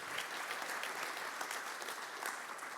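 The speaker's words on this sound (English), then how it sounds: "please give a round of applause for Trey Turnage of Pearl River" An audience at a scholar-athlete luncheon applauds steadily, a dense, even wash of clapping heard from a distance without speech.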